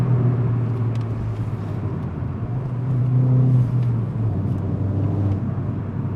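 Mini JCW GP engine held at about 4,500 RPM while driving on a winding road, a steady droning hum from inside the car with a slight swell midway, loud and continuous.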